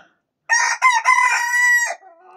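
After a brief silence, a young rooster inside a henhouse lets out a single loud, close crow, held for over a second before fading into a quieter final note.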